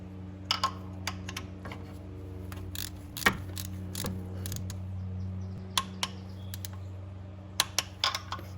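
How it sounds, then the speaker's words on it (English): A torque wrench tightens bolts on a Honda to 28 foot-pounds, giving scattered sharp clicks and light ratcheting taps close by, with a faint steady hum underneath. "Now it's time to grab your torque wrench, torque these down to 28 foot-pounds."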